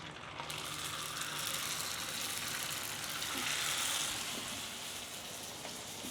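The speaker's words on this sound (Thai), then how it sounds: "เวลาทอดนะครับ ก็อย่าใช้ไฟแรงมากนะคะเพราะว่าเดี๋ยวมันจะไหม้ซะก่อนครับ" Pierced shrimp crackers fry in hot oil, a continuous soft crackling sizzle that swells slightly midway and holds steady without any talk.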